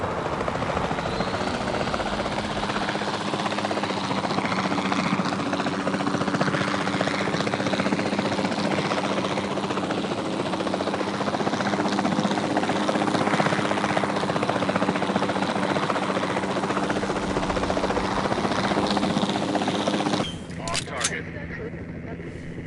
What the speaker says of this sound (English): the sensible thing is to take a capture team helicopter